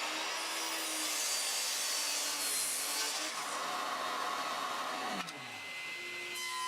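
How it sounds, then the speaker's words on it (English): A miter saw whines loudly while cutting through glued-up wood, a sustained harsh roar that drops away near the end as the blade spins down. "I could cut it down to size over at the miter saw."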